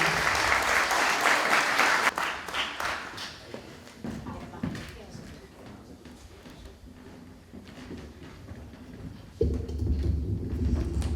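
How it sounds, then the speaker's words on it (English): Applause from an audience at an MLK celebration day event held by a Cape Verdean association, greeting a young female singer. It is loud at first, then fades into quieter scattered clapping and room noise. "Let's give her another round of applause"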